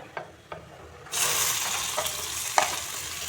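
Nigella seeds, dried red chillies and chopped onion dropped into hot mustard oil, a quiet stirring before a sudden loud, steady sizzle that continues with occasional clinks of a spoon.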